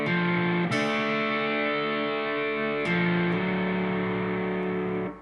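Distorted electric guitar plays part two of the riff slowly, three ringing chords struck in turn and left to sustain, close and loud with no talking.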